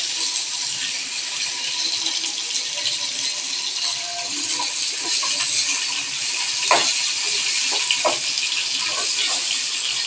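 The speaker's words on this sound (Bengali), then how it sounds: "মাছ ভাজাটা দেখো হালকা আঁচে ভেজে মাছটাকে আমি তুলে নেব।" Fish frying in oil in a pan over low heat, a steady broad hiss with scattered small pops and crackles, close and continuous with no talking.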